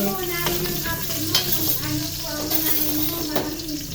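Garlic with its skin on and chopped onion fry in a pan, a steady close sizzle that runs the whole time, with faint clinks of stirring and a little background talk.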